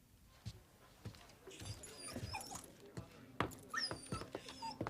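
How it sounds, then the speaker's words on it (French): A fox terrier in a drawing room gives short yelps and whimpers among rustling and footsteps, with faint voices talking nearby. "Ils ont un chien. Un fox terrier, peut-être bien?"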